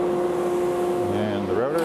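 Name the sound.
dust collector starting up in woodworking shop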